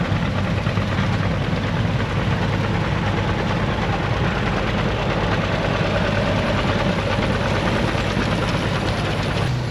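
An old pull-type Massey farm machine rumbles at a steady, heavy, low engine drone close by during harvest work with old equipment, loud and constant throughout with no talking.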